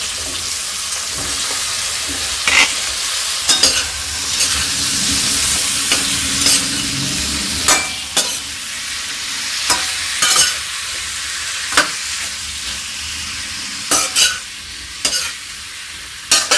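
Pumpkin pieces hiss loudly in a hot pan with tomato masala for a spicy sabzi, a continuous close sizzle punctuated by regular metallic scrapes of the spoon stirring.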